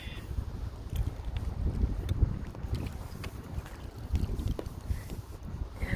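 Steady wind blowing across open water while out boating, a constant low rushing and buffeting against the microphone with faint lapping, moderately quiet and unbroken throughout.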